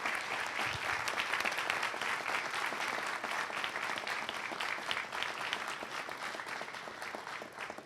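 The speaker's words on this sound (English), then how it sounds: "one last round of applause" An audience at an evening book event with authors Kaveh Akbar and Joseph Earl Thomas gives a sustained round of applause, steady and dense from start to finish, with no speech over it.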